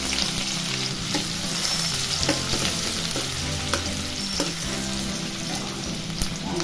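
Onion frying in oil with mustard seeds and cumin, a continuous close sizzle with stirring scrapes and occasional pops throughout, no voices.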